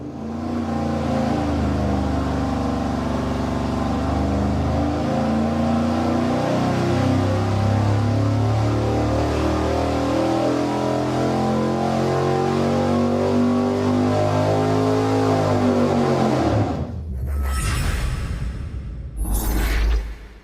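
An engine fitted with an Edelbrock RPM Air Gap intake manifold runs on a dyno, a loud sustained roar climbing steadily in pitch through a long pull, then cutting off abruptly, followed by a couple of short blips.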